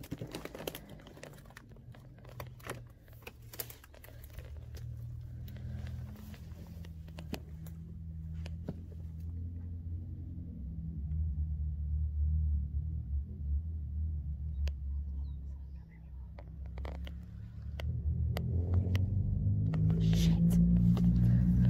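A vehicle drives nearby outside an abandoned prison, a low steady rumble that swells and grows louder toward the end, with faint rustling and footsteps close by.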